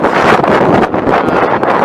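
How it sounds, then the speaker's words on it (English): Loud, blustery wind of about 60 to 70 mph roars steadily against the microphone on an exposed height in Iceland, buffeting in rough surges with no pauses. "It is still windy as heck up here. Very, very windy"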